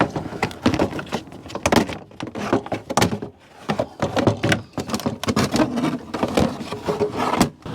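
A radiator fan assembly is lifted out of its slot in a Chevrolet Silverado 1500 with a 5.3 Vortec engine, making close plastic scraping, knocking and rubbing noises in uneven bursts.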